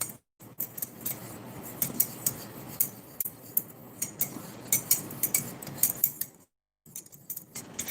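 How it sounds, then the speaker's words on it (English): A spoon stirs tea in a cup, tinkling repeatedly against the sides in quick, uneven clinks with a few sharper taps, close by, with a short silent pause near the end before the clinking resumes. "Just stirring the tea."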